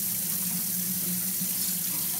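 Tap water runs steadily from a faucet into a sink, a continuous close hiss with a low rushing tone, no talking.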